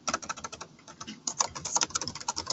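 Fast, steady typing on a computer keyboard, a close run of light clicking keystrokes with brief uneven pauses.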